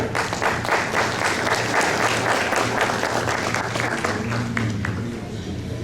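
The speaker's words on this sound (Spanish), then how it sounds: "Un aplauso, por favor." Audience applause at a university panel discussion on the history of journalism in El Salvador, a steady dense clapping from a seated crowd filling the room throughout, loud and continuous with no talk over it.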